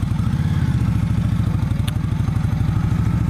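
A 2017 Indian Scout motorcycle engine thrums steadily at close range, a loud, rapid low-pitched pulsing that holds even throughout with no voices over it.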